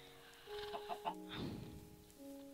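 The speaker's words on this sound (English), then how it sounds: "Chickens! Chickens are friendly in this," Chickens cluck in the video game Minecraft, a few quick, close clucks in a row followed by a longer warbling call, set against steady game background tones.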